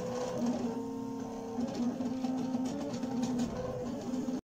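A craft cutting machine draws with a foil quill tool on a Valentine's card, giving a quiet, continuous mechanical whir with shifting motor tones, heard on its own with no talk.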